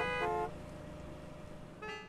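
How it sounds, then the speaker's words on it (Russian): A car horn honks twice in the Gas Station Simulator game, first a held blast, then a short toot after a pause, over a low steady background hum. "И чего бибикают?"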